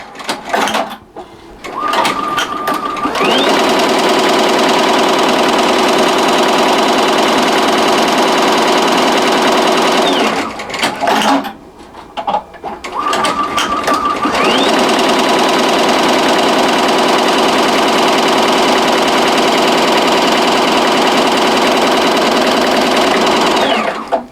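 A Tajima embroidery machine stitches black thread in two long, loud, steady runs of rapid mechanical whirring and clatter, each starting and stopping with a brief ramp and a short pause between.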